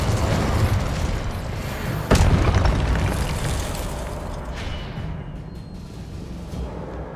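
Incendio fire spell in Hogwarts Legacy, a loud fiery burst that flares sharply about two seconds in and then rolls off into a rumbling, fading roar.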